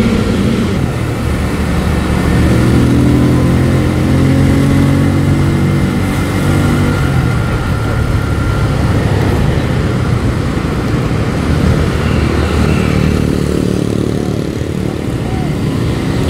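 Benelli Motobi 152 small 150cc motorcycle being ridden, a steady loud engine drone with heavy wind buffeting throughout.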